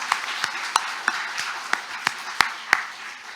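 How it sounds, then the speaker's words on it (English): A conference audience applauds steadily, a broad wash of clapping with sharper claps popping out at a regular beat. "let's have a round of applause for APSEU."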